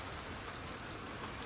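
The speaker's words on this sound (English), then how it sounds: "this is a really good storm we got going on" Heavy rain pours down steadily during a storm, a dense, constant hiss of drops striking surfaces with no gaps and no voices.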